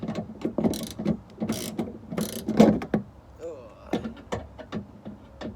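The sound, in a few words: removing Vauxhall Corsa VXR trim screws with Torx 20 ratchet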